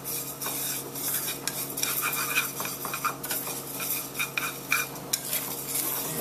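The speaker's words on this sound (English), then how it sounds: "I'm going to let this toast for about maybe 5 more seconds, continuing to toss it" Mung beans toast in a hot pan as they are tossed and stirred, giving repeated scraping and rattling bursts over a light sizzle, close and fairly busy, with no talking.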